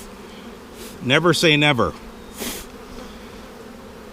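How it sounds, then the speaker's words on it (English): Honeybees droning in an opened overwintered hive during a spring inspection, a steady low buzz running throughout beneath a brief spoken phrase from the beekeeper. "you look for a cluster of bees"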